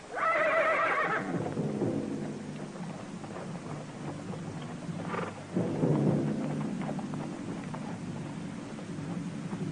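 A horse whinnies loudly and shrilly at the start, then a second, lower neigh follows midway against a steady background of rain-like hiss and low rumble.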